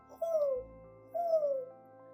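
A voice imitates an owl's hoot twice, each a gliding, tonal call with a pause between them.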